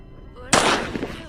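A single loud shotgun blast in the Granny horror video game, a sharp close crack followed by a short decaying boom over faint background music.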